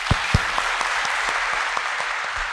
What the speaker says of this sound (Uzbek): Bitta qarsak chalinglar